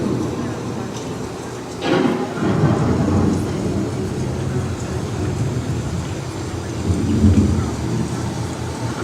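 A thunderstorm with steady heavy rain and two deep rolling thunder rumbles, one early and one later, both close and loud over the rain.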